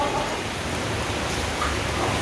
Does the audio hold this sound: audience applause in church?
no